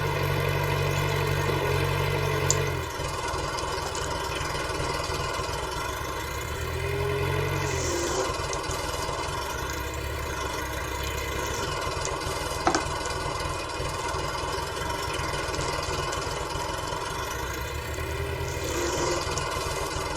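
A tractor engine idles and chugs steadily up close, its mechanical knock continuous, with a few brief clanks and faint swells in the rumble.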